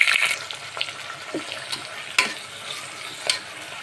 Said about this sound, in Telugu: ఆయిల్లో ఫ్రై అవ్వాలని ఒకసారి కలిపేస్తున్నాను